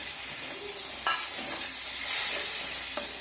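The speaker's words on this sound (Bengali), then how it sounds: "হালকা একটু ভেজে নেব।" Tomatoes with a pinch of asafoetida fry in a pan for a South Indian potato bonda recipe, giving a steady close sizzle with a few light clicks of stirring and no voices.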